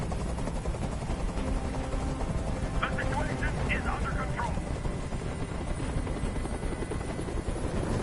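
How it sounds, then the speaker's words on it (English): A helicopter hovers nearby in the game Detroit: Become Human, its steady rotor drone and chop continuing throughout while a voice speaks over it midway. "I can't stand that noise anymore. Tell that helicopter to get out of here."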